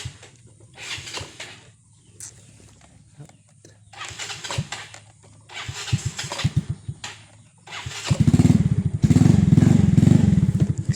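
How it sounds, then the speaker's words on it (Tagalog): A motorcycle engine catches and starts, settling into a loud steady idle after some knocks and thumps, with faint talk in the background. "Gamit itong motor. Yung motor tayo. Start na natin."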